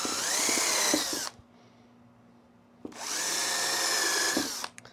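A power drill whines at high speed in two sustained bursts with a short pause between them, boring holes in a wooden table saw bevel jig close by.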